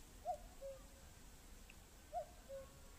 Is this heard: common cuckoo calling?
yes